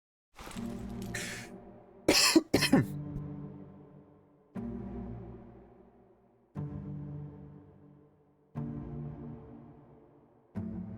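A person coughs repeatedly, first a few sharp harsh bursts close together, then a series of single coughs spaced about two seconds apart, each fading out, heard near and alone without talk.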